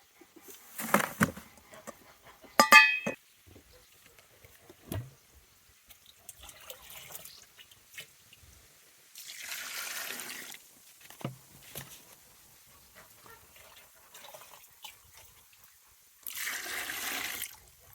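Apple wine liquid draining and dripping out of a covered container, heard as sparse drips and short trickling bursts with long quiet gaps, faint and close.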